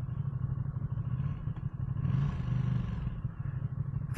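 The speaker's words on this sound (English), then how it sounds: "But this is not a quiet exhaust system. It's deep, it's throaty." Deep, throaty rumble from the stock exhaust of a 2024 Ducati Streetfighter V2 motorcycle being ridden, a steady low drone that swells briefly mid-clip, heard alone without talk.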